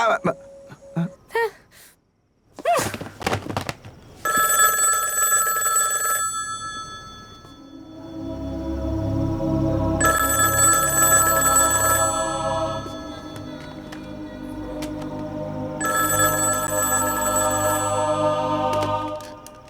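A telephone rings in a dramatic scene from the Malayalam film Charlie, with three long bursts of electronic ringing separated by pauses. Brief gasps and voices come before the first ring, and a low background tone plays under the rings.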